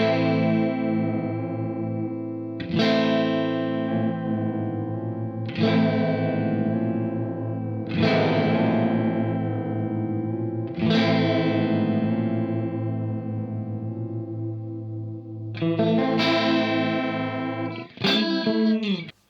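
Guitar processed by a Universal Audio Astra modulation pedal in Doppler mode, with rate, width and feedback controls, sounding as sustained strummed chords that swell and sweep, struck anew about every three seconds with a rotating, wavering shimmer.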